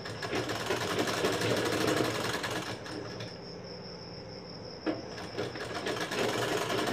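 A sewing machine stitches blouse fabric in a steady, rapid mechanical whirr. The motor eases to a thinner hum midway, then picks back up to full speed, close and continuous with no talk.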